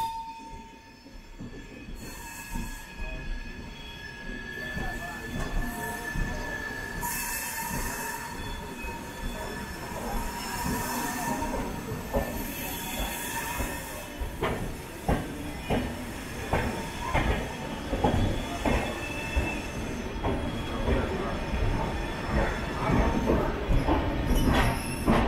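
The 20691 Antyodaya Express rolls into Madurai station at slow speed, heard from inside an unreserved carriage: steady rumble, repeated wheel clatter over rail joints and faint squealing brakes throughout, with no talk.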